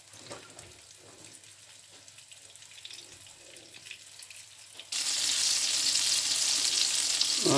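Flour-coated fish fries on a low flame in a pan, starting with a quieter patch of faint kitchen noise and then breaking into a loud, steady, close sizzling hiss.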